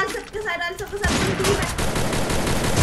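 Gunfire in the mobile battle-royale game Garena Free Fire MAX: after a brief quieter stretch, a dense, loud burst of rapid shots erupts and continues without pause, with some talk underneath.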